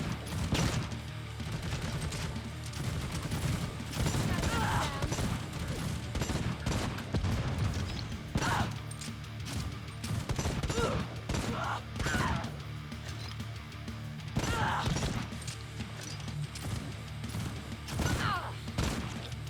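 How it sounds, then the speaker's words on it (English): Enemy gunfire in Necromunda: Hired Gun, a steady barrage of overlapping shots, crashes and thuds from several directions with no pause. "Who's shooting me? They're upstairs."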